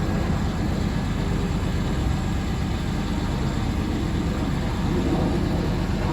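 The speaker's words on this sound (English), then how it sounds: "All them airplanes are flying low." Low-flying airplanes passing overhead make a steady, heavy rumbling roar that stays loud and unbroken throughout, with no talking.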